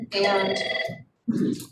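A telephone rings loudly in a planning and zoning commission meeting room, a sustained electronic trill that pauses and starts again, with a brief spoken word between the rings.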